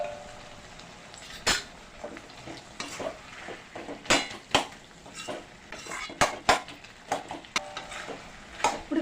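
Tamarind being stirred into ridge gourd frying in a pan for beerakaya pachadi, with scattered clinks and scrapes of a spoon against metal over a soft sizzle, in irregular bursts.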